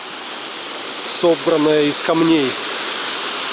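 A waterfall roars as a steady broadband rush heard from above, with someone talking over it in the middle.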